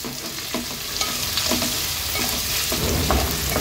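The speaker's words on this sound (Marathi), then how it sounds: "आता कांदा छान शिजवून घ्यायचा आहे।" Large chunks of onion with chillies frying in hot oil, a dense close sizzle with repeated spatula stirring strokes scraping the pan at an unhurried rhythm.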